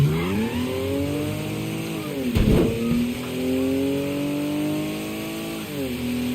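Car engine revving in the video game Mafia III, a Porsche-like sports car: a loud, close engine climbs and holds steady, with a brief harsh burst midway and a drop in pitch near the end, no talk over it.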